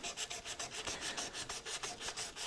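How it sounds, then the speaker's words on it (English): Sandpaper rubbed across the grain of the wood on an antique dressing table under restoration, a steady run of even back-and-forth rasping strokes, close and fairly soft. "I don't normally sand across, but sometimes just to get a bit of a result"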